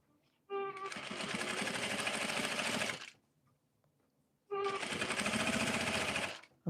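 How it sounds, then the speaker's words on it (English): A sewing machine stitching fabric edges together runs in two loud, steady bursts of a few seconds each, with a quiet pause between them. The machine is close and no one talks over it. "I'm just stitching the edges together."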